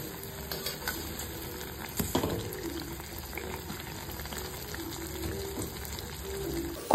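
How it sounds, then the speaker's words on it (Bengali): Soft, steady sizzling of food frying in oil, fairly quiet and continuous, with a brief clatter near the middle and no talking. "এবার একটা একটা করে ভেজে নেব।"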